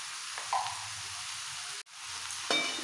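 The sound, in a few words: rice, lentils and vegetables sautéing in a pot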